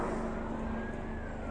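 A steady, droning helicopter engine roar with a low hum, sustained and moderately loud as it flies overhead, with no voices.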